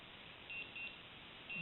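An Omega Speedmaster X-33 watch giving its one-minute warning: a few faint, thin electronic beeps in short separate bursts over a quiet hiss.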